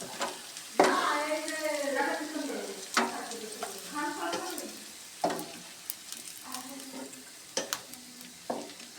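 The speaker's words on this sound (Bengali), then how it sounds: "পেঁয়াজটা ভেজে নেওয়া হবে বাদামি কালারের।" Onions frying in oil until brown for chicken haleem, a steady close sizzle broken by sharp stirring clicks and scrapes, with a faint voice-like murmur underneath.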